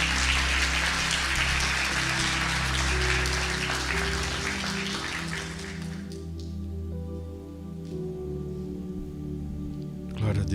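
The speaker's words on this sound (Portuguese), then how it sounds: "Batam palmas para o Senhor Jesus." A church congregation claps together in a dense, sustained burst of applause that fades out after about six seconds, leaving a soft musical backdrop.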